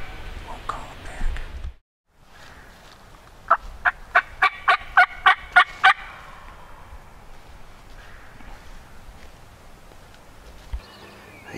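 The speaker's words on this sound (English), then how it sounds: "These gobblers, this is the 4th time in here. Gobble, gobble, gobble." Wild turkey gobblers gobble during a spring hunt, a rapid burst of about nine loud, rattling notes standing out against quiet woods, with brief rustling before and after.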